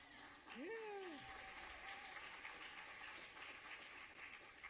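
Applause from an audience at an awards celebration, a steady wash of clapping at moderate distance with a brief voice rising over it near the start.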